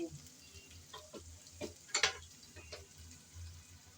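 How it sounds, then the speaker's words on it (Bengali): Ginger, garlic and onion are stirred lightly in a pan, giving a faint, steady sizzle with a few soft spatula scrapes and clicks; no one speaks. "আদা আর রসুন পেঁয়াজের সাথে নেড়ে চেড়ে হালকা করে বেজে নেব"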